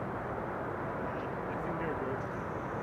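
An airliner lands at Amsterdam Schiphol Airport, with a steady, broad jet roar filling the air evenly from start to finish.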